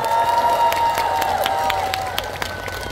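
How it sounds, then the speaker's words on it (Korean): A concert audience at a live performance by singer Kim Hee-jae applauding and cheering, a dense crowd roar with scattered claps and shouts that eases slightly toward the end. "이분들께 박수 한 번만 쳐주세요."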